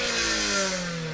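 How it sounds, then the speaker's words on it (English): A Toyota Altezza RS200 engine, tuned by Top Secret, revs hard and high, a loud steady mechanical roar with rising harmonic tones, close up and without voices. "you really have to rev it out to get the most out of it"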